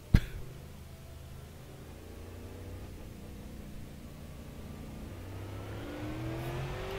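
Race car engine in the iRacing simulator pulling out of the pits, a steady mid-pitched drone that slowly rises in pitch and loudness after a sharp click at the start, with no speech.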